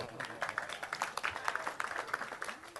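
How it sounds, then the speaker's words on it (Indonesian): An audience at a large evening discussion gathering gives a short, fairly quiet round of clapping, irregular hand claps spread across the crowd with some voices mixed in. "Tepuk tangan untuk Sabrang ya"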